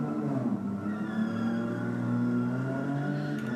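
Drag racing cars launching hard off the line at a NSW championship meet, a loud sustained engine roar with steady harmonic drone throughout, no talk.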